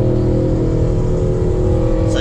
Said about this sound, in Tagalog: Sadyang maingay lang talaga siguro yung motor niya.